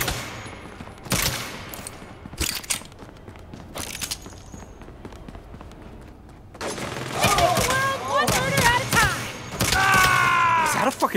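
Heavy gunfire in the video game Saints Row, with a minigun in the action: loud broadband bursts and booms in the first half, then frantic shouting voices over continued combat noise.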